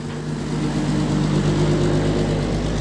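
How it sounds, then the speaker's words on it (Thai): A vehicle engine runs loudly and steadily at close range, a low, even drone with a constant hum, heard alone without talk. "เสียงอาจจะดังหน่อยครับเครื่องยนต์"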